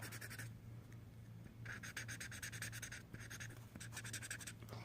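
Prismacolor colorless blender marker tip being wiped clean, in short bursts of faint scratchy rubbing separated by pauses, close and quiet.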